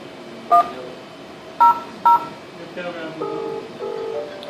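A VoIP softphone dials out on a PC-to-PC call, sending a string of short DTMF tone beeps: three sharp louder tones followed by several softer overlapping ones, over a quiet background hum.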